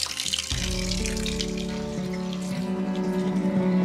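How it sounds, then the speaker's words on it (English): Cool mountain water runs from a spout in an Albanian village, a steady, close, splashing stream with a tonal ring to it, heard alone without talk. "Cool mountain water."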